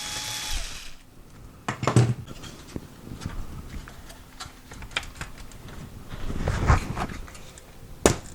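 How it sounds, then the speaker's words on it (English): Power screwdriver backing front-panel screws out of a Pioneer VSX-D608 receiver, with short whirring bursts and clicks amid scattered handling taps and rattles, close and moderately loud. "So let's remove the screws that hold the front panel on."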